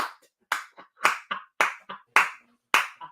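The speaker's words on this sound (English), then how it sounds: "Let's give Metal an applause for that one." Sparse hand clapping follows a call for applause for a voice impression on a comedy podcast, with about eight separate sharp claps in an uneven rhythm, close and fairly loud with silence between them.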